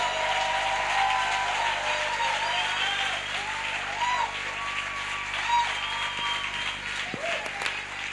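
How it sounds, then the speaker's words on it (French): A church congregation applauds and cheers in sustained clapping, with scattered shouts and vocal cries rising over the crowd. "Est-ce qu'on peut acclamer plus fort que ça,"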